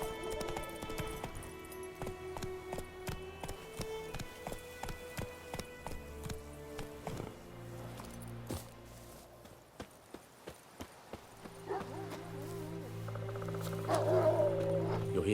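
Roach the horse's hooves clatter in The Witcher 3, a rhythmic clip-clop of galloping over a game music and ambient bed, the steady hoofbeats fading into other game sounds midway.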